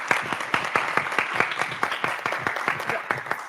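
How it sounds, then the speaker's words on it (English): A room full of people clapping for debaters at an HBCU debate event, with dense, rhythmic hand claps close and steady throughout. "Let's give all of our debaters another round of applause."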